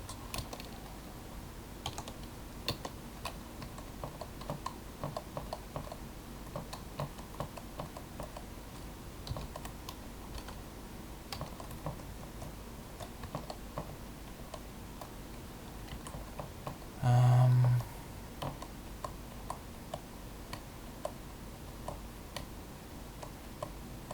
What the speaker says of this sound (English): you can probably hear my keyboard clicking